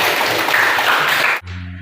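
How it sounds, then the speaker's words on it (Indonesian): A school class in Merauke, Papua, applauds its homeroom teacher: a dense burst of clapping that breaks off abruptly and gives way to a low hum. "Jadi tepuk tangan dulu buat wali kelasnya saja."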